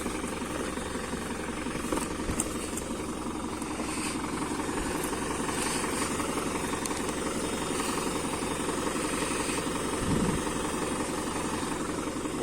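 A New Holland TD100 tractor engine drones on without pause, a low rumbling idle with a faint rattling vibration throughout, close and fairly loud.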